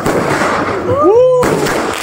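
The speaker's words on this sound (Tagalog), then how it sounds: "So dahil nga grand opening nila, may pa fireworks." Fireworks set off for a restaurant bar's grand opening in San Pablo City, Laguna: a rising whistle streaks upward amid a busy, noisy outdoor crowd, then cuts off sharply into steady background din.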